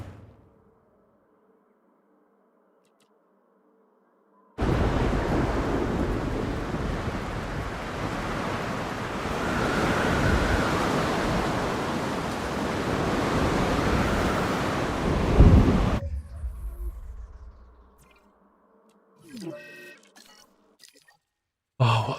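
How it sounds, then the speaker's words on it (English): Storm wind and crashing surf roar in Jurassic World Evolution 2, a sudden loud, steady wash of waves and gusts after a silent opening, then cutting off to quieter rumbles. "Oh, what a time to have a storm right now."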